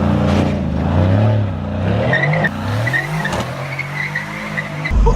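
A Formula 1 car accelerates away with a loud roar and squealing tires, the sound easing off before another sharp burst at the end.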